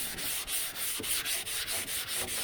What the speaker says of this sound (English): You keep using the sandpaper till it don't sand no more.